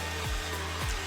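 A heat gun blows hot air steadily over a plastic part of a Mercedes-Benz A250 AMG Sport, a constant breathy roar with low hum, close and alone.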